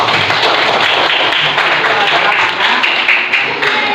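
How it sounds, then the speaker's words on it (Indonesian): Schoolchildren in an Indonesian classroom clap their hands together in a loud, dense burst of rapid overlapping claps that fills the room for several seconds. "Anak yang bapaknya sudah meninggal dunia. Tepuk tangan."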